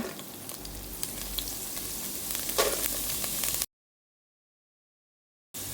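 Cumin and urad dal frying in hot coconut oil while a Kerala-style tapioca and green banana dish is prepared, a close, steady crackling sizzle with a few sharp pops that stops abruptly, then silence until it briefly resumes.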